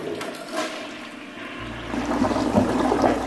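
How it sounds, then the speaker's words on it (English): A dual flush toilet flushes on its full setting: a quieter gurgle at first, then a loud rushing surge of draining water that keeps going to the end, with no talking. "I'm gonna do the max flush."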